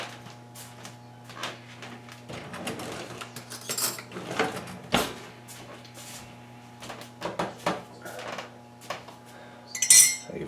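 A metal spoon clinks and taps against a mug and an AeroPress coffee maker in a kitchen while being warmed, giving scattered sharp knocks and light rattles at irregular intervals over a quiet background hum.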